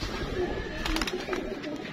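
Soft pigeon coos from pigeons with clipped wings repeat through a steady murmur of background noise, with a few brief rustles in the middle.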